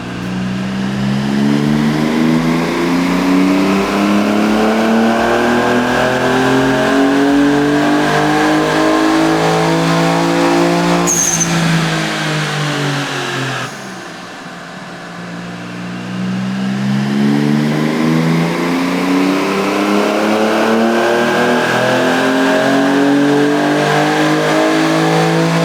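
A cherry red Nissan 300ZX Z32 twin turbo drives around the block, its engine loud and close as it repeatedly revs and accelerates through the gears, with a brief lift-off dip midway before pulling hard again.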